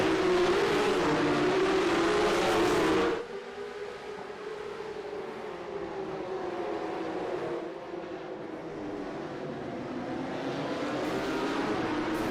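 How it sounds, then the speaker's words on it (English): Porsche Cup race cars roaring at the start of a sim race at Montreal, a loud sustained engine drone that drops abruptly after three seconds, then a steadier, slowly building engine hum continues. "Let's turn the music down and turn the engines up as we get ready to release them for 50 minutes of Pro-Am racing"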